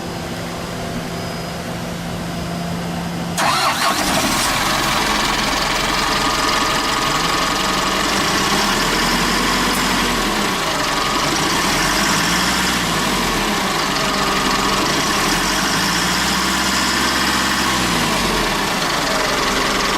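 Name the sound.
Nissan Diesel Condor truck engine starting and idling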